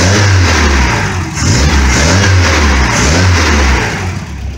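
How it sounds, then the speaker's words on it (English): A car engine, fitted with a newly replaced fuel pump, runs loud and close with a deep, steady hum that swells and dips in repeated gentle revs. "Obviously, the car is running."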